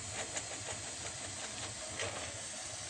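Soup water boiling in a pot on the stove, a steady bubbling hiss with soft irregular pops, continuous and fairly quiet.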